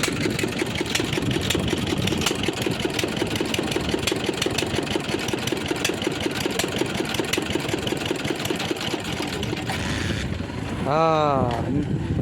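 Motorboat engine drives a small ferry boat across a narrow river, a steady close chugging drone lasting throughout, with a voice breaking in near the end.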